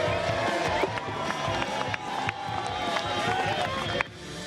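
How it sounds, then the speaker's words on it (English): A home crowd roars at a surf contest at J-Bay as a surfer comes out of a barrel, a broad, loud, sustained wash of cheering and whistles that lasts the whole stretch before dropping off near the end. "Someone is deep inside the barrel and emerges to a massive roar from the home crowd support"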